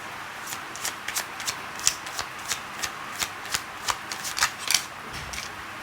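Lenormand fortune-telling cards are shuffled by hand close by, a steady run of crisp riffling flicks and slaps in quick, slightly uneven rhythm.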